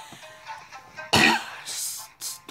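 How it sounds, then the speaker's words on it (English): A single sharp, harsh cough bursts out loudly, followed by a quieter second cough, with faint murmuring beforehand. "Stupid coughing."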